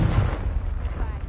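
Confringo fire spell going off in the Hogwarts Legacy video game, a heavy booming blast with a deep rumble that swells and fades over a second, close and loud.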